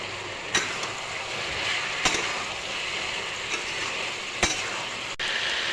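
Chopped tomatoes sauté with a little water in a pan as a steady, close sizzle, a few distinct utensil knocks or stirring scrapes landing at intervals; no voices.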